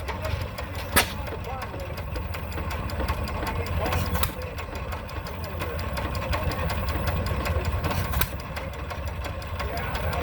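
A single-cylinder stationary engine runs steadily at a threshing show, its low chugging idle carrying on throughout with a few sharp knocks, while people talk nearby.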